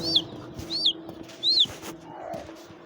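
A small chick being picked up and held gives three clear, high peeps at close range, spaced about half a second apart, over soft handling rustles and faint background noise.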